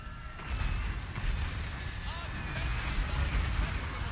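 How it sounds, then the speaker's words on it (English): Vampire Coast artillery barrage in Total War Warhammer 2, a steady dense roll of booming shots and crashing impacts that grows busier after the first half-second and keeps rumbling throughout. "I love the Vampire Coast artillery barrages."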